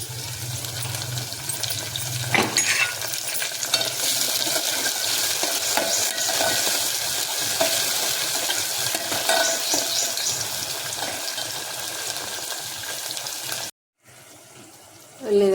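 Chopped onion, a couple of green chilies and fenugreek leaves sizzle loudly in hot oil for a home tempering, a steady crackling hiss with stirring scrapes throughout, cutting out briefly near the end.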